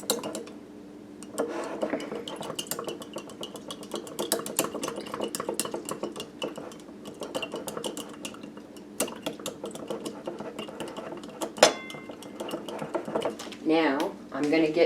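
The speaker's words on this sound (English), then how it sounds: "I'm going to get a skewer because I want to stir this up a little bit" Two skewers stir a mixture in a container, giving rapid light clicks and scrapes that run steadily for about fifteen seconds, with a person talking throughout.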